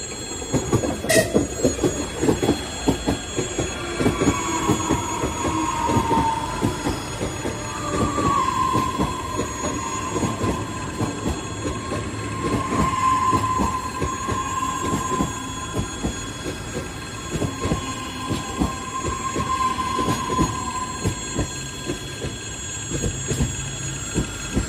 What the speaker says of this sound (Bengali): এই যে ট্রেন আসতেছে, ট্রেন আসার জন্য কিন্তু এরকম আওয়াজ হচ্ছে।